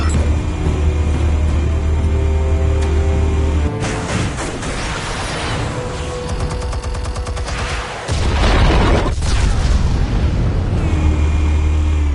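Explosives going off in Batman: The Telltale Series, loud booming blasts and crackling debris that shift abruptly partway through, with a big detonation burst near the end over a rumbling low bed.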